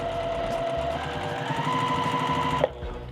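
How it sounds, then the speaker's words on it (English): A sewing machine runs steadily for a quick test stitch, a close, even motor whir with a rapid mechanical rhythm that rises slightly in pitch midway before stopping abruptly with a clunk near the end. "our machine is ready to go. Let's just do a quick double check, and we are going to go ahead and give this a sew"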